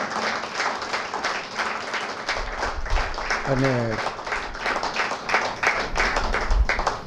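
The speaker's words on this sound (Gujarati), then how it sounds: "વક્તાઓનું ખૂબ તાળીથી અભિવાદન કરીએ." An audience claps for the speakers at a literary talk, a dense patter of many hands, moderately loud, while a voice speaks over the applause.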